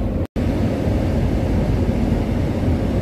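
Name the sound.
paint booth blowers running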